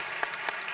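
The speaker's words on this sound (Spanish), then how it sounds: "Dar un aplauso para que suba el ánimo." Audience at a San Sebastián Gastronomika 2014 cooking demonstration applauds, giving a short burst of dense, fairly faint clapping heard from a distance with a few sharper claps standing out.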